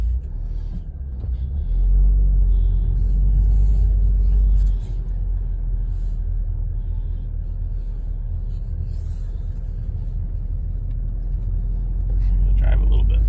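Subaru WRX engine drones steadily while driving through a neighborhood, a loud low rumble that swells near the start and again at the end, with a voice talking over it.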